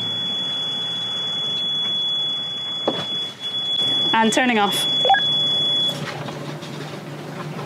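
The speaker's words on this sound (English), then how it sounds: "No, I've got a temperature alarm." A steady high-pitched engine temperature alarm on a boat holds for several seconds, then cuts off, while someone talks briefly and a motor hums in the background.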